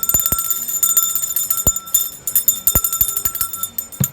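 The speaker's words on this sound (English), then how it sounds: "let's ring the bell" A small bell rings with bright, sharp strikes, several dings at an uneven pace over a steady metallic ringing tone.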